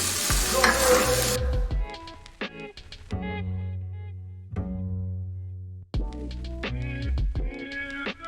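Stirring coconut milk and water in a hot pan, with a brief loud sizzle at the start followed by intermittent scraping and clinking of a utensil against the pan at close range.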